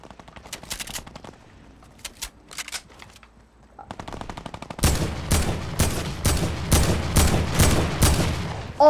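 Rapid automatic gunfire in Fortnite, with scattered quieter shots at first and then a loud, sustained burst of fast, evenly spaced shots, close and dominant, with no talk.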